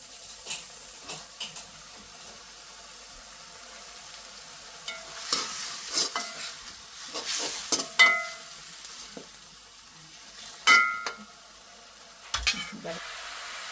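Tomatoes sizzle softly in a pan on the stove, with occasional stirring scrapes and light clinks of a utensil against the pan.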